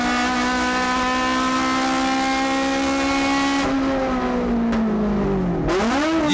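A Toyota AE86 race car in a 1999 N2 battle at Tsukuba circuit, its engine with a 320-degree intake cam howling loud and close at high revs, pitch holding steady, then dropping and climbing again through a corner.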